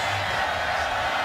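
Dense, steady roar of a large football stadium crowd at a Kansas State versus Oklahoma college game, broad and continuous with faint cheers and whoops blending into the wash of noise.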